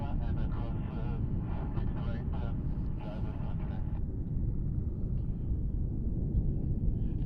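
Jazz flight 729 airliner at Cleveland Hopkins airport gives off a steady broad engine roar that persists from start to finish, with people talking over the first half.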